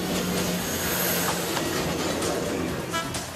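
A trambia, a small cart-like rail handcar, rolls along train tracks, giving a steady, loud rumbling rattle of wheels on rail with faint metallic squeaks throughout.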